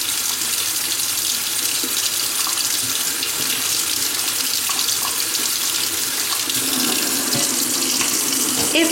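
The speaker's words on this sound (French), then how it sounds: "Une fois que vous avez passé votre œuf sous l'eau froide" Cold tap water runs steadily into a sink while a hard-boiled egg is rinsed under it, a loud, continuous splashing rush with small variations as the egg moves in the stream.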